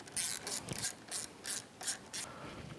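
Metal ratchet clicking in quick bursts while unbolting parts on a Honda Grom motorcycle during a footpeg installation, a series of sharp close clicks with short pauses between strokes.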